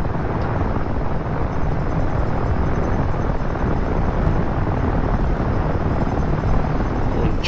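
An AH-6J helicopter in the DCS flight simulator gives a loud, steady turbine and rotor roar that holds an even level without pause for the whole stretch, with no voices.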